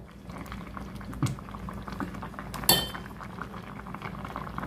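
Sugar syrup for a raw mango recipe bubbles quietly and steadily in a pot, with a couple of sharp metallic clinks from a utensil against the vessel.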